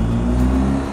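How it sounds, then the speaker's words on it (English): A BMW R1250 GSA motorcycle engine pulling under acceleration with a rider and pillion aboard, a steady, close, loud hum with low tonal drone. "the engine is so strong there."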